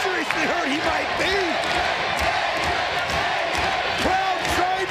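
Wrestling arena crowd roars continuously, a dense wash of shouting and chanting with dull thuds and slams from the ring, while a commentator's voice rises and falls over the noise.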